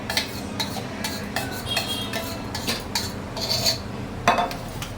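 A spoon repeatedly clinks and scrapes against a bowl as warm milk is stirred into whipped sour curd, a rhythmic series of close metallic taps with no speech.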